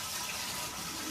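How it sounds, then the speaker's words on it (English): Brewed tea for kombucha pours into a gallon jar over a sink, a steady, close rushing splash of liquid lasting about a second. "Pour your tea into your gallon jar."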